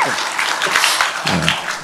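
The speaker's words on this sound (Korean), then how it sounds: "박수 한번 해주세요" A short burst of clapping from a group, brief and fairly loud, fading out within a couple of seconds.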